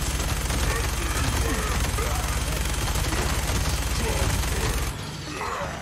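Heavy automatic gunfire from a big gun in the video game Fallout 76 rattles in a loud, continuous stream for about five seconds, then cuts off, leaving a quieter tail.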